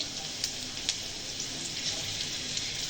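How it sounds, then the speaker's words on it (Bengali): Onion and green chili frying in a pan, a steady close sizzle with crackling spits popping out now and then over the bubbling hiss, alone with no talk. "এখন রান্নার জন্যে পেঁয়াজ আর কাঁচা ঝাল ভেজে নেব"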